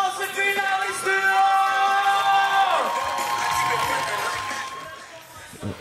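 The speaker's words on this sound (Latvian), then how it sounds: "Aplausi finālistiem!" Crowd cheering and whooping for the finalists of a ghetto football competition, loud sustained cheers and shrill calls with applause underneath that gradually die down.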